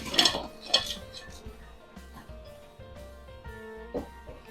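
Golden fried chicken pieces being stirred into a butter garlic sauce, with close spoon-and-pan clatter and scraping in a few sharp bursts, then softer mixing sounds.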